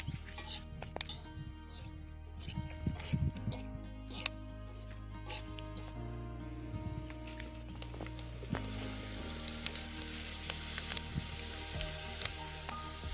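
Food frying crisply in oil in a village kitchen, a close continuous sizzle with crackles and pops, light clinks of utensils now and then, with brief talk over it.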